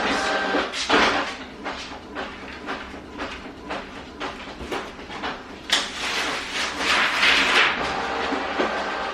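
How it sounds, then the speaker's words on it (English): A home printer feeds and prints a card on medium cardstock, giving a run of rhythmic mechanical clicks and clacks with bursts of feed noise that swell louder toward the end. "Okay, that's gonna print."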